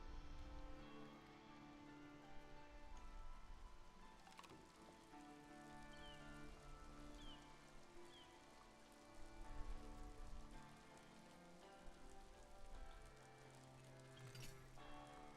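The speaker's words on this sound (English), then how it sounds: "Wish the rain would go away so we could see the whole village." Steady patter of rain falling on surfaces in a medieval city-building video game, constant and fairly quiet, with faint chirps and a soft musical hum beneath.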